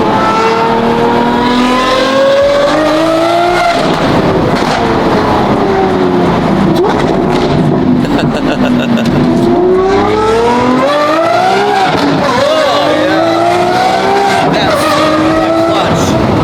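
A Lamborghini SVJ's Gintani F1 exhaust with a flame tune roars loud and close as the engine revs and climbs through single-clutch gears, pitch sweeping up and dropping at each shift, with talking underneath.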